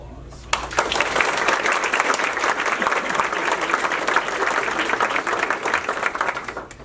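Sustained applause from the audience at a 2019 State of the City address, honouring council members and the mayor, a dense steady clapping that fills the room for several seconds.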